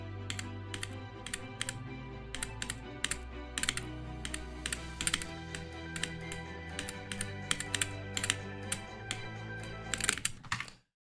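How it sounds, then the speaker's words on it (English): Loud computer keyboard typing, close up, a steady stream of sharp clacking keystrokes in irregular bursts for about ten seconds, heard alone with no talk. "My keyboard is loud, I know."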